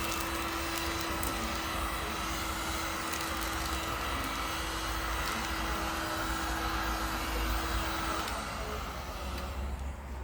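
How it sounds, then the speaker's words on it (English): A constant loud blowing roar of a heat gun running nonstop on a 40 oz tumbler during sublimation, with a steady whine until it cuts off near the end. "So we use a heat gun"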